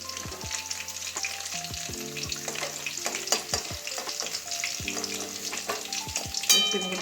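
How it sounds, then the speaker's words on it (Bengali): Potatoes frying in a pan produce a soft, continuous sizzle, with frequent scraping and knocking from a stirring utensil and no voices. "আলুটা আরও দু মিনিট ভাজবো"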